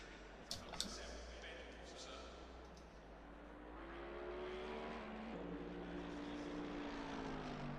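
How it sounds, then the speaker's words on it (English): A helicopter flies over the track in the racing game Assetto Corsa Competizione, a faint droning rotor hum with a wavering pitch that grows slightly stronger over several seconds, behind low ambient noise and a couple of clicks. "Helicopter that is actually moving around"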